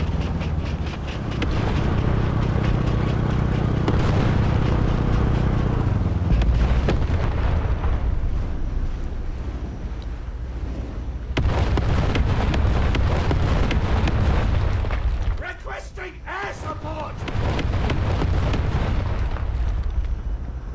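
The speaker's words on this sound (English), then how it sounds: "Artillery strike!" Artillery strike explosions in War Thunder Mobile, heavy rumbling blasts and long roaring booms that swell and fade in waves across about twenty seconds, loud and low with wind-like noise.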